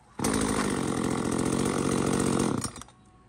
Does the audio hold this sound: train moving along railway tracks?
no